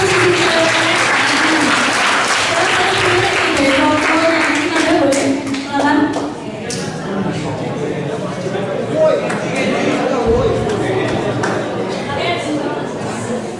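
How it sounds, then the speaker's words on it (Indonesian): Students at a school talk on gut health clap loudly together, a dense, steady burst of applause that thins out toward the end, with some chatter mixed in. "tepuk tangannya dong"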